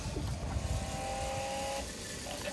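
A small gesture-controlled toy car drives and drifts with a faint, steady electric motor whine. The pitch holds mostly constant, with a slight change as it turns.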